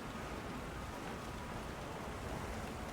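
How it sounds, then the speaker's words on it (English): Heavy rain falls in the video game Monster Hunter Wilds as a steady, faint, even hiss of downpour with no breaks and no voices. "The rain's really coming down."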